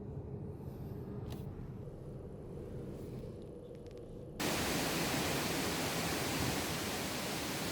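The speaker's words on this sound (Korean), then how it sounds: "한참을 달려 쌍둥이 폭포라고 별명이 붙은 폭포를 찾았다." Låtefossen, a 165 m twin waterfall splitting into two streams, gives a soft distant rushing wash that abruptly becomes a loud, close, steady roar of falling water partway through.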